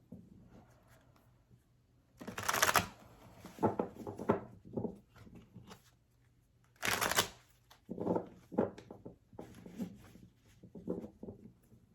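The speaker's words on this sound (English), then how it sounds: "3 more shuffles for Virgo." Bursts of tarot cards being riffled and shuffled, several quick rounds separated by short pauses, close and fairly quiet.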